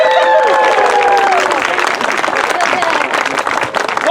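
Audience applause fills an outdoor Shakespeare show at the Connecticut Renaissance Faire's King Henry's Fall festival, loud clapping and crowd noise running steadily while a performer speaks over it.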